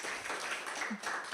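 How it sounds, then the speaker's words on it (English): Audience applause at the close of an afternoon talk on Kukai, a steady, dense wash of clapping that holds throughout without pause. "Let's give her a round of applause"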